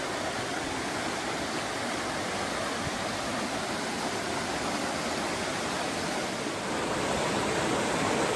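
Steady rushing water of a cold mountain stream on the Pacific Crest Trail, a constant broadband wash like a small cascade nearby, with no voices.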